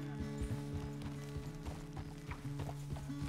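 Horse hooves clip-clop in Red Dead Redemption 2, a quick and steady run of close, thudding beats on the ground.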